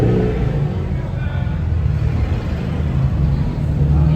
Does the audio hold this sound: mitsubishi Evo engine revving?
yes